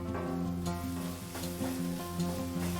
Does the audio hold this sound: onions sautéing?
yes